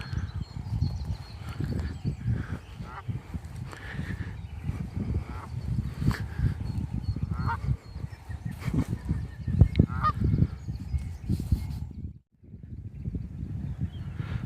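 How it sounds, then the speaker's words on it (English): A goose honks repeatedly nearby in a sheep field, loud nasal calls over outdoor rustling and footsteps, with a short silent gap near the end. "He's a shepherd goose."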